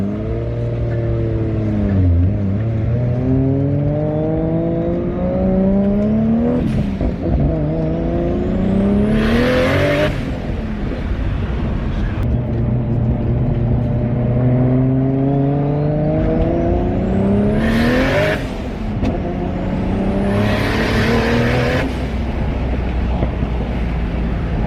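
Turbocharged 2JZ engine in a 620whp Toyota Supra with a screamer pipe, loud and close, revving up through the gears with whining boost, gear-change dips and sharp bursts of exhaust popping and blow-off hiss.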